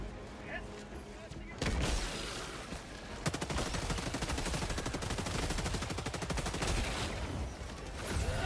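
Rapid automatic gunfire from the player's guns in Helldivers 2, a dense sustained burst of shots after a brief quieter start, loud and close with voices talking over it.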